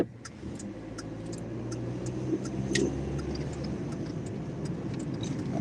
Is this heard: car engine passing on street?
yes